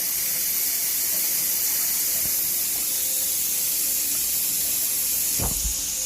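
Running water pours steadily over hair during a wash, a constant close hiss with a brief bump near the end and no talking.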